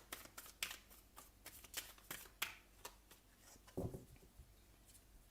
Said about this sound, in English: quickly cut the cards. I've already pre-shuffled and got your cards ready for the reading.